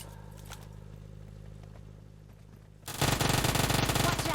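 Quiet engine-like hum, then video game gunfire bursts in: rapid automatic shots, loud and close, rattling continuously through the final second and a half.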